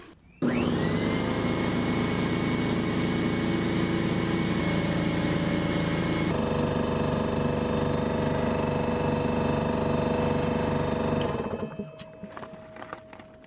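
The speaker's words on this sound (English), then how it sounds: "I'm going to use my dad's DeWalt air compressor here to put some air in the tire" A DeWalt air compressor runs loud and steady for about eleven seconds while inflating a low car tire, its motor hum shifting pitch partway through before it cuts off and a few small clicks follow.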